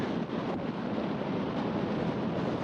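Steady broadband wind roar buffeting the microphone outdoors at a disc golf course during a professional tournament round, continuous and loud with slight gusting swells and no voices.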